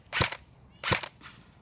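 An APS AK47 airsoft gun fires on semi-auto: two sharp, close cracks about three quarters of a second apart, then a fainter third snap. No one speaks.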